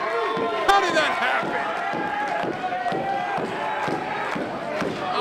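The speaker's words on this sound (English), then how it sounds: "with this crowd continuing to chant on Strider for some unknown reason" A pro wrestling arena crowd keeps up a rhythmic chant for the wrestler Strider, a loud, continuous pulsing roar with commentators talking over it.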